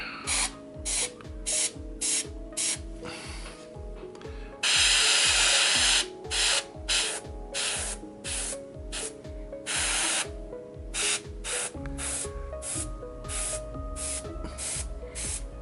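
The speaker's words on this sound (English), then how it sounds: "This is like an airbrushing a dry brush." An airbrush sprays paint in short directional bursts onto a Dragon King miniature from Kingdom Death: Monster, with a close, sharp hiss switching on and off repeatedly and one longer spray midway, with no talking.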